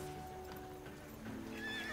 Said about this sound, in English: Let's go ahead and put our steed on